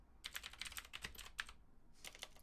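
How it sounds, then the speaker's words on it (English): Fingers type on a computer keyboard, a quick run of light clicking keystrokes with a brief pause before more taps, close and fairly quiet, with no speech. "I'm typing."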